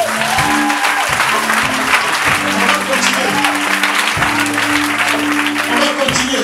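A worshipping congregation applauds loudly and continuously in acclaim of the Lord, while sustained musical tones sound underneath the dense clapping.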